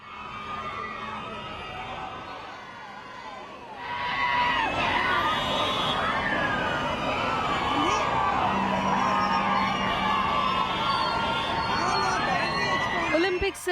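Thousands of fans welcoming a badminton player through Hyderabad's streets cheer and shout, with whoops and children's cries swelling after a quieter start, a loud, continuous crowd roar of mixed voices.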